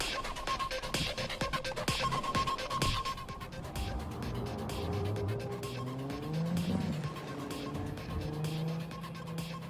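A car in Cyberpunk 2077 drives with loud rhythmic clatter at first, then its tires squeal in long wavering skids as the engine note rises and falls, close and continuous.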